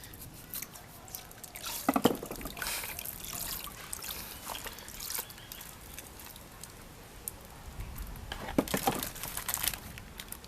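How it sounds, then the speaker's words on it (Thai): A carton of sweetened fresh milk is cut open and poured into a fermented plant-tonic mixture, producing faint trickling and dripping sounds with soft crinkling, rising in two brief splashy bursts. "นมสดรสหวานนะครับ เราก็ตัดใส่ลงไปเลย"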